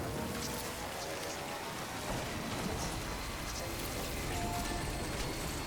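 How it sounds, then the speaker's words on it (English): Timefall rain from the video game Death Stranding pours down in a steady, dense hiss, a constant close wash of falling drops with no break in intensity. "Timefall here is going to destroy every..."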